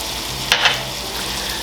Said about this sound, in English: Now we're just going to stir that around